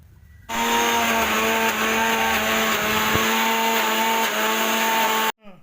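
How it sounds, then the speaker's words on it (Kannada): A kitchen mixer grinder whirs loudly and steadily for about five seconds as it grinds biscuit cake batter with Eno, starting abruptly and cutting off sharply at the end, with no talk over it. "ಪ್ಲೇನ್ ಈನೋ ಪ್ಯಾಕೆಟನ್ನು ಜಾರಿಗೆ ಹಾಕಿ ಮತ್ತೆ ಚೆನ್ನಾಗಿ ಗ್ರೈಂಡ್ ಮಾಡಿಕೊಳ್ಳಬೇಕು"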